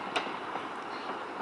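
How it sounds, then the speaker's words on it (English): Train from Birmingham International Airport passing below a hillside car park near Barmouth, a steady distant rumble with faint clicks and a brief sharp squeal near the start. "Oh, there's the train."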